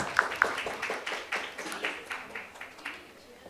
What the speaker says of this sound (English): Can we all give her a huge round of applause